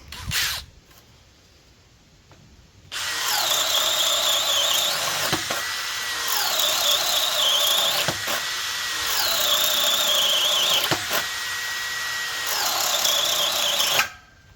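DeWalt 12V Extreme cordless drill running at speed 2, a loud steady whine that rises and falls in repeated bursts of about three seconds each, with brief dips between runs.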